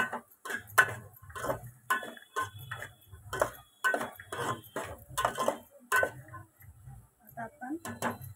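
Shelled green peas dropped into a metal pot in repeated small handfuls, each pour giving a short clattering rattle, with brief pauses between them.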